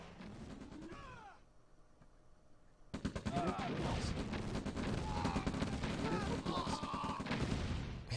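Rocket strikes and combat from the video game Command & Conquer: Red Alert – The Aftermath, a skirmish match: a rumble that drops out briefly, then a dense run of loud explosions and gunfire-like bursts with chirpy game effects layered on top.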